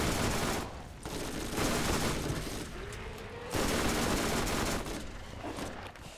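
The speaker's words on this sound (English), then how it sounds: "Ooh, shots fired." Dense, loud gunfire in Borderlands, a sustained crackling barrage that swells and dips in several waves with brief lulls between them.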